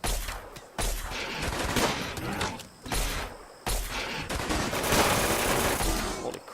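Machine pistol fire in the video game Rimworld: loud, dense automatic bursts in several long strings separated by brief gaps, close and harsh, with no talk.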